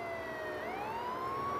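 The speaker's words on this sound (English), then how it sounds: "fire engine," A fire engine siren wails loud and steady on a rising, falling electronic tone, its pitch gliding smoothly upward partway through, with no voices.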